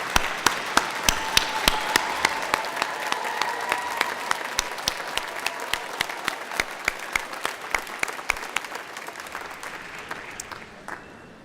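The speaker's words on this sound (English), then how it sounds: "please stand so that we can give you a round of applause" Sustained audience applause at a business school hooding ceremony, dense steady clapping from a large crowd that fills the hall for over ten seconds before slowly thinning toward the end.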